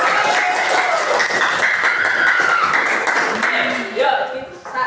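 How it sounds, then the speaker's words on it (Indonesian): A crowd applauds for Pak Mui at a campus teaching event, steady dense clapping that fills the whole moment and tapers slightly near the end as a voice speaks over it. "Beri aplaus buat Pak Mui ya."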